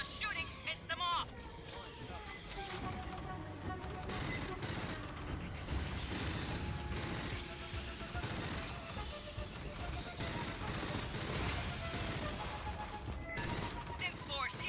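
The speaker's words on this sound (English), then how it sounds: "All the shooting pissed them off!" Sustained gunfire in a sci-fi video game battle against Xenos and Synth forces, continuous rattling volleys mixed with game voices and mechanical effects throughout.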